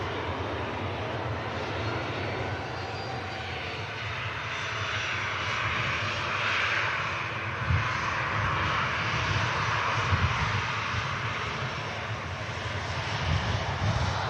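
An Aer Lingus A320 airliner bound for Dublin taxis out at Manchester Airport, its jet engines giving a steady, broad roar with a faint whine on top, moderately distant and sustained throughout, with no talk over it.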